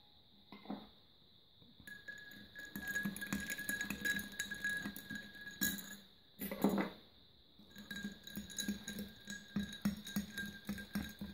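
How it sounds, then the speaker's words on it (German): A spoon stirs absinthe in a glass, producing a series of bright, ringing clinks and scrapes against the glass, close and clear with short quiet gaps and no talking. "Wer mag, kann jetzt noch einmal umrühren."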